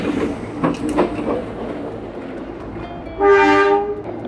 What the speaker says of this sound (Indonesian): sudah ada kereta api jarak jauh yang juga sudah melintas dari arah Jakarta